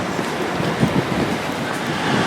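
A Leeds to Nottingham passenger train pulls out of the station, giving a steady broad rumble and rush of noise at moderate distance with no talking.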